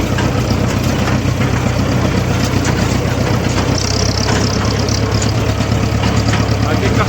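A tractor engine idles loudly close by with a low, continuous rumble and a constant mechanical drone, with strong wind noise mixed in throughout.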